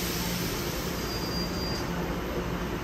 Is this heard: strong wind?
no